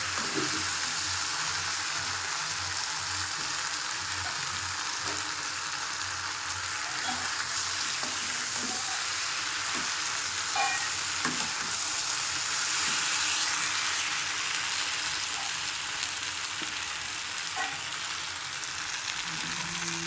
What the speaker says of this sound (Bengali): মশলাটা ভালো মতন করে কষিয়ে নেব মশলাটা নালে কাঁচা মশলা গন্ধ থাকবে